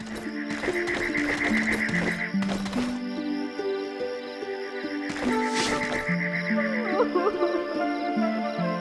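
Queen EarthWalker, a dinosaur in the Star Fox Adventures video game, gives distressed, wavering cries that sound like a horse whinnying. The cries repeat loudly over a droning tonal game background, with short bursts of noise in between.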